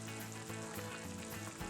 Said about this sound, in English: Let's allow this to simmer and reduce for about 15 minutes